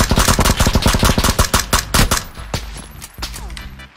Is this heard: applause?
no